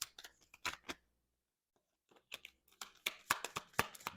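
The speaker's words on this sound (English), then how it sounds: "Let me shuffle one more time." Tarot cards are shuffled in close, crisp bursts of riffling and snapping, with a quiet pause between two short rounds.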